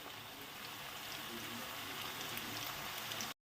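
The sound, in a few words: onions frying in a pan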